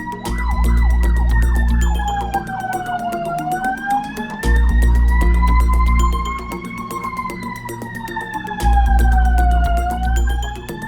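A loud wailing emergency drill siren sounds in the early morning, rising and falling in slow sweeping cycles, continuous and close, with a deep rumbling pulse underneath.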